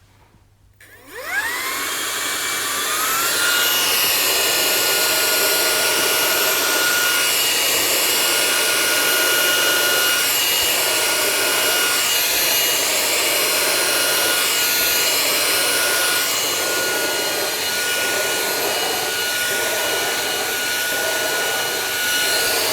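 Roidmi P1 Pro cordless handheld vacuum spinning up from a click and running with its brushes, a loud steady whine that shifts in pitch as it sweeps over a surface.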